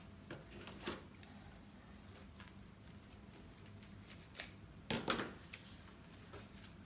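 Scissors snipping through deco mesh while a Halloween witch wreath is assembled, a few quiet crisp cuts scattered through the first seconds and a louder cluster of snips near the end, close against a faint background hum.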